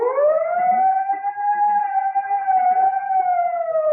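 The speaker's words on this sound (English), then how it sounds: "Whenever you hear the siren and bell" A fire engine siren wails in a smooth rising and falling tone, loud and close, holding steadily for several seconds alone with no bell clearly distinct.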